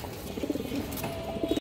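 A silver female pigeon and its companions give short bursts of throaty cooing, a few pulsing notes close by, rising near the start and again at the end.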